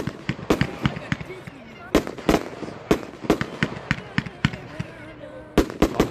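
A fireworks show for a hospital charity crackles and booms with sharp, irregular bangs in quick succession, fairly close and loud, while people talk in the background.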